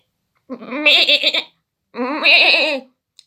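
A voice imitates a goat, giving two quavering, wavering bleats up close, separated by a short pause.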